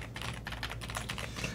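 A budget prebuilt mechanical computer keyboard in the 40,000-won price range being typed on, a rapid continuous run of close, clear key clacks at a quiet level.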